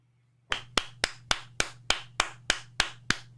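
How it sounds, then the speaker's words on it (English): A person claps hands eleven times in a steady, even rhythm, each sharp crack close and distinct against a faint background hum, with no voices. "why am I hearing a clap sound?"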